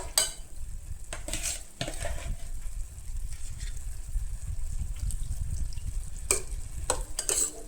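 Prawns tipped into a pan of frying masala give a steady low sizzle with some stirring and utensil clatter, fairly quiet and close, with no voices.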